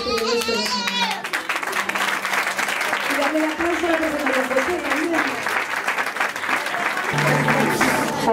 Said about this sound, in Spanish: Y darle el aplauso